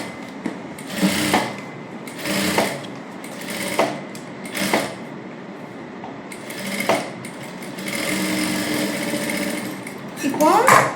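Short bursts of a sewing machine stitch a blouse lining, each run lasting under a second with gaps between, while someone talks throughout.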